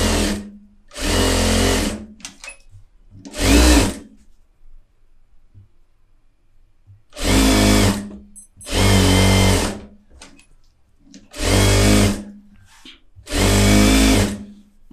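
A sewing machine stitches along the outer side of a blouse in loud, close runs of motor whir, a few short bursts, a long quiet gap, then four more steady runs.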